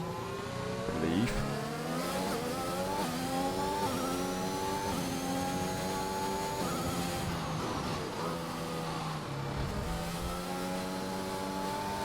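Aston Martin race car on a flying lap in a racing video game at the China circuit, a steady mid-pitched engine whine rising and dipping through gear shifts, with a voice talking over it throughout.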